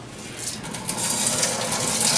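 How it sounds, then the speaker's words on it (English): Water rushes from a Delta kitchen faucet into the sink, a close steady hiss and splash that grows slightly fuller as the flow continues, with no talking. "just simply turn the water on"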